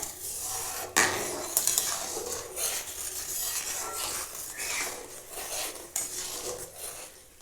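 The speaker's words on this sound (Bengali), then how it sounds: "এই চালের পেস্টটা অল্প অল্প করে দেবো আর নাড়বো" A utensil stirs rice paste into a pot of boiling water seasoned with soda, pepper and cumin, with steady scraping and clinking against the pot and a few sharper knocks.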